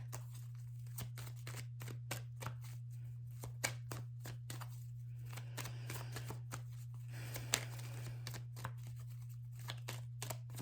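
Tarot cards shuffled and drawn from a deck, a quick run of soft papery flicks and slaps close by, over a steady low electrical hum.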